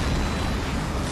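A ground target explodes in the jet combat video game H.A.W.X, a short dense burst of broadband roar at full loudness with no pause.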